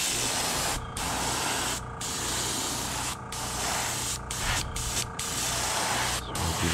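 Airbrush spraying paint onto a hand-carved lipless crankbait fishing lure, a steady close hiss broken by several brief pauses between bursts.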